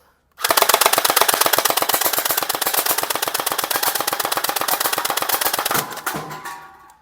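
An AK-style gel ball blaster fires 7-8 mm crystal gel bullets in one continuous rapid burst of about five seconds, a loud, close, buzzing rattle that ends with a short mechanical whir.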